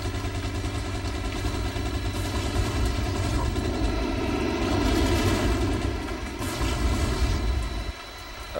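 Several planes fly in a video game, their engines a loud, steady droning roar with a layered tonal hum that holds for several seconds before dipping near the end, with bursts of gunfire mixed in.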